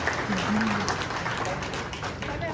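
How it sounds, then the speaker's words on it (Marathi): Applause from guests at an engagement ceremony, a dense steady wash of clapping that holds at an even level for a couple of seconds, with a faint voice briefly heard underneath. "यांच्या साखरपुड्याच्या समारंभात सर्वांनी टाळ्या आपल्या जोरदार सांगावे"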